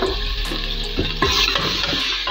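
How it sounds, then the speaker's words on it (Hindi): A spoonful of garlic sizzles in 150 grams of hot oil as the base for a chicken karahi, a steady close frying hiss broken by a few stirring scrapes and clinks. "ये मैं तेल डाल रहा हूँ 150 ग्राम। उसके बाद दोस्तों, मैं इसमें डाल रहा हूँ लहसुन"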